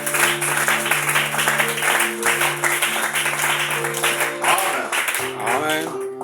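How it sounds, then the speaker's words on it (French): A church congregation applauding during worship: dense, sustained clapping throughout, mixed with music and voices. "Acclamons Jésus"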